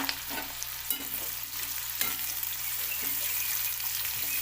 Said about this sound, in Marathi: तेल गरम झालं की का चिरलेला कांदा टाकायचा